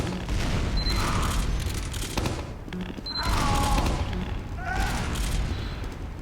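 Grenades from the Demoman's launcher in Team Fortress 2 detonate in a dense run of booming blasts, several overlapping explosions with mechanical clatter between them, loud and close throughout.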